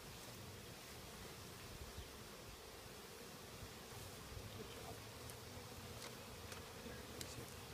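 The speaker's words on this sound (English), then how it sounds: "how many bees are in there approximately, Cam?" Honey bees buzz inside a full hive, a steady, dense drone that holds evenly throughout with faint crackling on top and no voices.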